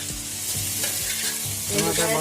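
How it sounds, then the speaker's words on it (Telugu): Ridge gourd frying and being stirred in a pan for a curry, a steady sizzle with repeated scraping strokes of the spoon, close and alone without talk. "బీరకాయ బాగా వేగిపోయింది"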